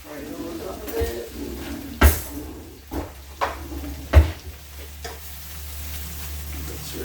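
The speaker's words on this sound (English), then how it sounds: "And mushrooms and onions gone in. Fry those up a bit." Mushrooms and onions fry in oil in a pan, a steady sizzle underneath occasional clanks and scrapes of a utensil stirring against the pan, close and moderately loud.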